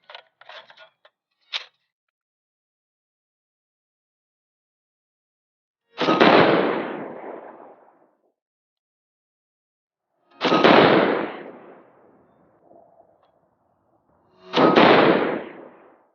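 Three loud rifle shots from a 6.5 Creedmoor with a 22-inch fluted barrel ring out about four seconds apart, each with a short decaying echo, preceded by faint clicks of handling.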